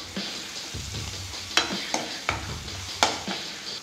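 Ingredients for tomato upma frying in a pan, a constant sizzle broken by several crisp scraping strokes and clinks of a spatula being stirred through.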